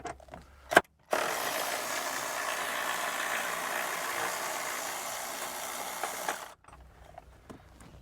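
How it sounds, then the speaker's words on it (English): A 12mm socket on a ratchet backing out bolts from the battery foot of a 300 Series Toyota LandCruiser LC300, heard as one long continuous whirring spin between brief clicks, close and fairly quiet. "So just using a 12mm socket now."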